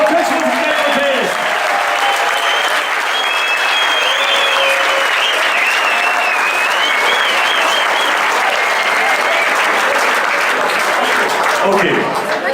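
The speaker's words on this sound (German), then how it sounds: "Besonderen Applaus für alle die Helfer von Lass mal singen, von Kirchhofen Hotel." Loud, steady applause from an audience at a prize-giving ceremony, continuous clapping filling the whole stretch with no break.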